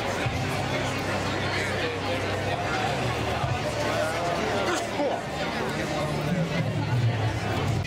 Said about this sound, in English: The crowd will be assembling here at the broadcast booth.